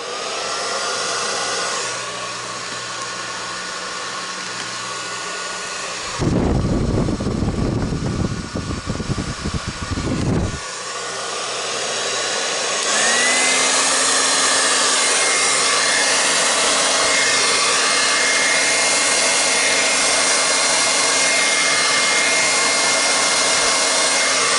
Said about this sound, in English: let's do the blow dryer